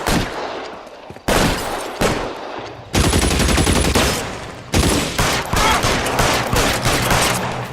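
Bursts of gunfire erupt in a shootout in the video game L.A. Noire, loud sustained rattling volleys separated by brief lulls, with automatic fire dominating the later stretch.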